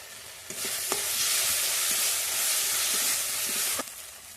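Spice paste cooking down in oil for a prawn and cauliflower curry, a loud, dense hissing sizzle that swells after a splash and holds steady, punctuated by a few spatula knocks.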